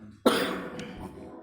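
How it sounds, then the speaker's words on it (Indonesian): A single sharp cough bursts out suddenly, followed by a brief rough rasp as it fades, close and fairly loud. "Ini agak terganggu ini dengan batuk."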